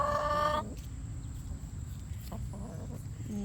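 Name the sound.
Brahma chickens clucking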